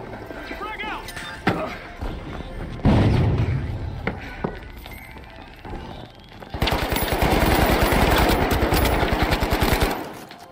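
Frag grenade blast and gunfire in the video game The Finals: a heavy thump near three seconds, scattered shots, then a long dense burst of rapid automatic fire near the end, with players talking over parts of it.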